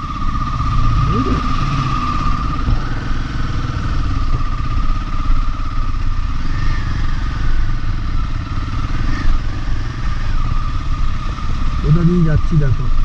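A motorcycle rumbles along a mountain road in Nepal's Mustang region, its engine droning steadily up close with occasional clatter and thumps from the rough surface, while a rider talks excitedly over it.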